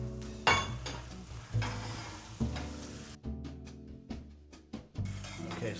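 Caramel sauce of melting sugar and butter cooking in a pan, with soft sizzling, stirring scrapes and occasional utensil clinks against the pan, fairly quiet and close.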